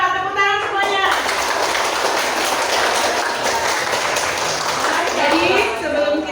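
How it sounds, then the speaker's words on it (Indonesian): A class of second-grade children clapping their hands together in a classroom, a dense, steady patter of many small hands lasting several seconds, with a few young voices and an adult voice audible beneath. "Coba tepuk tangan semuanya."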